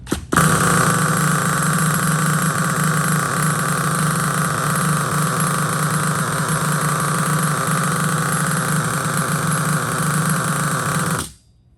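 Nitro RC stadium truck, a Hot Bodies Stadium Pro 2 with an LRP .32 glow engine and the glow starter still attached, runs at a loud, steady high-pitched idle for about eleven seconds before cutting off abruptly.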